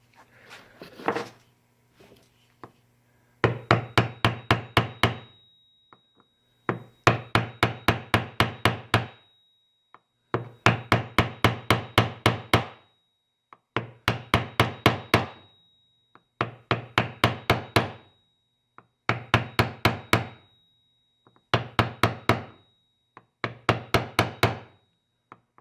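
A nut driver repeatedly taps a part into a two-stroke carburetor, producing close, sharp knocks in quick bursts of about eight to ten, each burst separated by short pauses.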